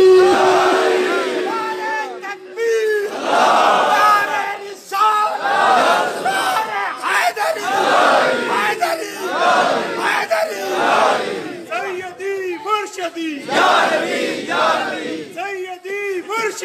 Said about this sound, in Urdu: نعرہ حیدری، کج کے مارو نعرہ